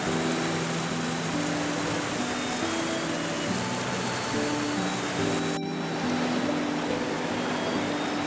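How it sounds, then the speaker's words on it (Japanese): Aragi River, a Kiso River tributary, flowing past the post town of Tsumago-juku, heard as a steady, close, broadband rush of water that fills the whole stretch without a break. "妻籠宿西側に木曽川支流の荒垣川、宿場に沿って流れている。"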